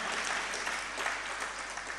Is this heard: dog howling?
no